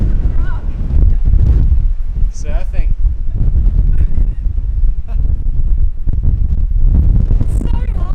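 Strong wind blasts across the microphone in the bush, a loud, constant low rumble with gusting surges, while a person speaks briefly and a few higher, honk-like tones cut through.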